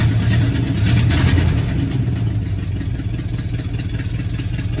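A cold car engine runs steadily as it settles toward idle, a continuous close mechanical rumble with a slight surge near the start and no talking.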